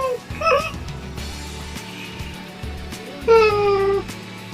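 A house cat meows twice, a short rising call near the start and a longer, louder drawn-out meow later, set over low domestic background noise and mechanical hum indoors.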